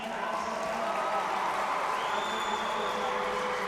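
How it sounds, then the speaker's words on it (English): Distant crowd cheering from the Pierre side of the stands at a high school state championship football game, a steady faint roar of many voices lasting a few seconds. "Cheer from the Pierre side as he was announcing the number"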